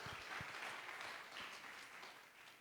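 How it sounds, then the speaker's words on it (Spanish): A church congregation claps for the King during a worship service, a dense, continuous round of applause from many hands at moderate volume, with a few low thumps early on and no speech. "¿Le puedes dar palmas al Rey?"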